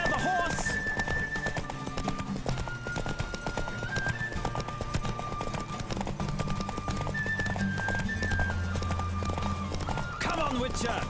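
Rapid hoofbeats of a galloping horse pound steadily throughout, with voices talking over the running rhythm, in The Witcher 3: Wild Hunt.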